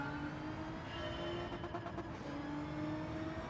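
GT Nismo race car in Gran Turismo 7 at Daytona, engine droning steadily at close range with a brief rapid fluttering burst in the middle, no talking.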